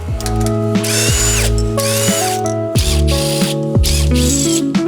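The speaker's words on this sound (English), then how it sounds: "We're going to take off the sway bar so we have access to the bolts a little easier." Ratchet wrench loosening 18 mm sway bar bolts on the axle of an Ineos Grenadier, a close series of rapid pawl clicks in short bursts with pauses, loud and alone.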